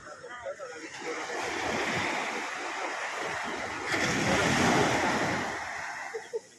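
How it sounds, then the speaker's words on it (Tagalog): Strong ocean waves surge and crash at a beach in Morong, Bataan, a loud continuous roar of surf swelling twice, with wind buffeting the microphone and people talking at the start and end. "Lakas ng alon."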